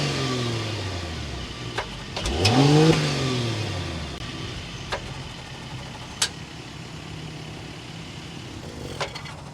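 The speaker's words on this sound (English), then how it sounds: "Let's go inside, start it up so you can hear that exhaust note." A 2023 Mercedes-Benz S500 4Matic with a turbocharged inline six fires up, a short rising crank and rev settling quickly into a smooth, quiet idle with a few faint clicks, heard fairly close without talk.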